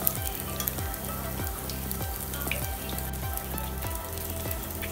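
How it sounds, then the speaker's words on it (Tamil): Bread and vegetable cutlets shallow-fry in oil with a continuous close sizzle and faint crackle. A steady low rhythmic thumping pulses underneath about twice a second throughout. "ஷாலோ ஃப்ரை பண்ணுறதுக்கு தேவையான எண்ணெய் விட்டுட்டு நம்மளோட கட்லெட்டை ஒன்று ஒன்றா இதில் எடுத்து வச்சுருங்க."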